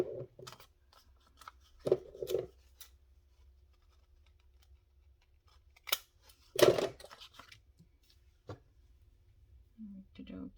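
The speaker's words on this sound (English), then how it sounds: "Let's see if I can cut this part. These scissors are not the best" Scissors snip through a thick, glue-coated piece of paper in a craft project, giving a few short, crisp cuts spread over quiet stretches, with a brief voice near the end.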